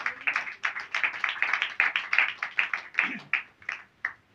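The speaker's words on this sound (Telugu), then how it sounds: "చప్పట్లు కొట్టండి." A church congregation claps hands in a brisk, steady rhythm of many quick claps, close and fairly loud for about four seconds, with no speech over it.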